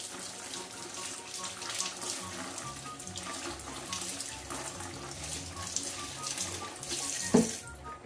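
Steady running tap water splashes over raw pork being washed in a kitchen sink for crispy pork crackling, a continuous hiss and patter with no speech over it.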